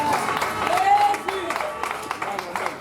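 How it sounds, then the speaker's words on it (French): A church congregation applauds together, a dense, steady clapping that stays under a loud voice speaking throughout, with a sung or held tone showing briefly through the crowd noise. "On acclame la parole de Dieu."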